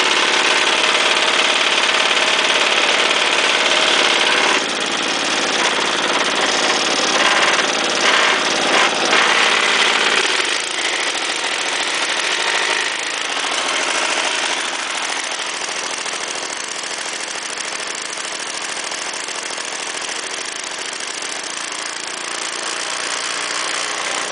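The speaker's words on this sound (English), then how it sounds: "See if it'll start up without any choke." An Ariens snow blower engine, cold, primed twice and run without choke, roars loudly and steadily on its own throughout, easing slightly in level partway through.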